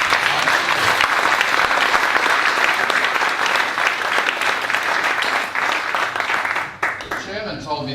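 A large audience gives a conference event's organizing committee full, sustained applause, which thins out toward the end with a few voices emerging.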